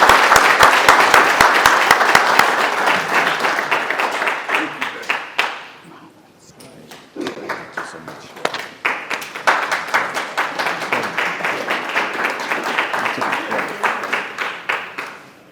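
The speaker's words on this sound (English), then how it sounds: "Give him a round of applause." An audience at a hall of fame ceremony in Wichita, Kansas gives a loud round of applause that fades out after about five seconds, then swells again into steady clapping that continues to the end.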